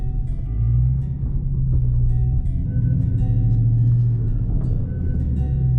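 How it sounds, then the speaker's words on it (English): A car passes on the road near a Dodge Charger 392 Scat Pack, its steady low engine rumble filling the few seconds close and fairly loud, with no speech. "Freaking car coming."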